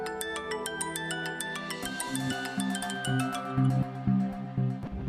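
A mobile phone plays a tinkling melodic ringtone, repeating its tune loudly for several seconds with no one speaking.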